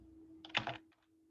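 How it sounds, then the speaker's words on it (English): Short burst of keystrokes on a computer keyboard as a password is entered, a quick cluster of clicks against a steady low hum, fairly quiet and close. "I'm going to type in a password for him."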